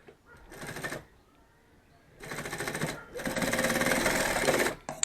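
A sewing machine stitches a bag in two close, steady runs, a short one and then a longer continuous one, with a brief quiet gap between them.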